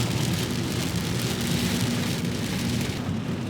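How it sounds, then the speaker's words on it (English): Heavy rain pounds on a car during a thunderstorm while driving through Georgia, a dense, constant close drumming of drops with low rumbles underneath, with no voices. "We're going through a storm in Georgia, and Rudy's in the front seat."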